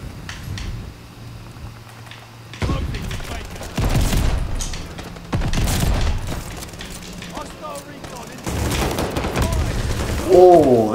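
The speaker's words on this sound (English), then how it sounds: "Oh, they're using shotguns." Heavy shotgun blasts in a multiplayer video game come in several loud, booming bursts separated by short gaps, with a player talking over the action throughout.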